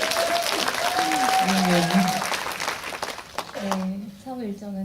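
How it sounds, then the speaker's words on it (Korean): Audience applause at a Korean film screening Q&A for the movie Marionette, steady clapping filling the room while a speaker's voice continues over it, the clapping thinning toward the end. "박수 부탁드립니다"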